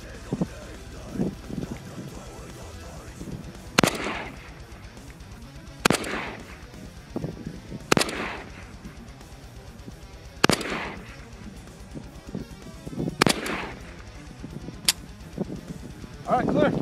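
AK-47 rifle shots fired at a target outdoors, about seven sharp loud single cracks spaced a couple of seconds apart, with wind noise and quiet talking between them.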